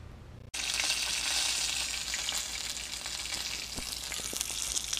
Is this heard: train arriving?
no